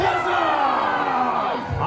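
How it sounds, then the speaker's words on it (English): A large outdoor crowd at a Wars of the Roses show at Warwick Castle roars and cheers for the House of York, a loud continuous wall of shouting voices. "House of York, give me a cheer if you follow your fearsome king!"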